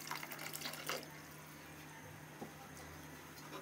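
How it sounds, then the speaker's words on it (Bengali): Water pours into a cooking pot while a Bengali sour dish of red amaranth greens and olives is being made, giving a faint, steady stream with small splashes near the start. "আর একটু জল আমাদের লাগবে।"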